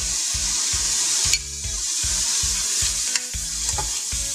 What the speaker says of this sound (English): Now we're just gonna saute this down until it softens up a bit.